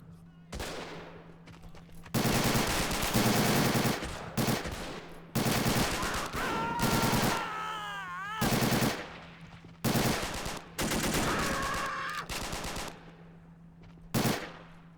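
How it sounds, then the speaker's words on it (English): Heavy automatic gunfire in a World War II shooter match, with Bren, BAR, Sten and Thompson guns in play: long loud bursts of machine-gun and rifle fire repeat across the battle, separated by short pauses. "Lots of heavy fire is exchanged, and I see dead troopers on both sides."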